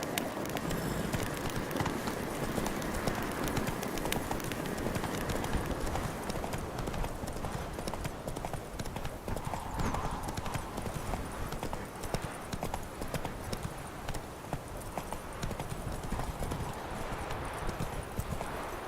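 The horse Roach galloping in The Witcher 3, a fast continuous drumming of hoofbeats with faint background ambience, steady from start to finish.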